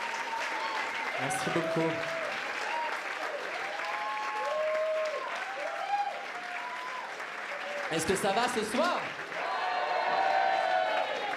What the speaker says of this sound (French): merci beaucoup pour ces applaudissements